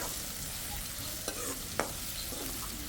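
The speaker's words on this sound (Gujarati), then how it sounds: "ડુંગળીને આપણે એક મિનિટ જેવી પકાવશું એકદમ નરમ થઈ જાય ત્યાં સુધી" Finely chopped onions fry in oil with turmeric and asafoetida, making a continuous sizzling hiss with a couple of sharp utensil taps against the pan and no voices.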